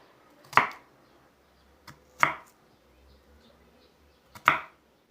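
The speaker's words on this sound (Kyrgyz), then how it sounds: "Эми акырын экиге бөлүп, андан кийин турап алабыз бадырыңды. Майда жука кылып турайбыз." A knife slices thinly through cucumber for a cabbage salad, giving three sharp, separate chops on a board with quiet gaps and a faint tap between them.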